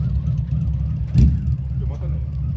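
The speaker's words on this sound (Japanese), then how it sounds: "音までついてますね。 今バックギア入れてんだって" A Walkure vehicle shifted into reverse gear gives a low, steady engine rumble close by, with a brief louder surge about halfway through.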